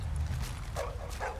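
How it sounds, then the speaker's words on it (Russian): A Dalmatian barking in Tom Clancy's The Division, two short yipping barks close by over a low rumbling game background. "Тихо, не гавкай."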